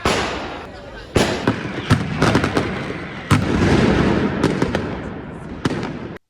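Firecrackers go off at the Fallas festival in Valencia, Spain, as a loud, continuous crackle with repeated sharp bangs over a dense rumbling wash.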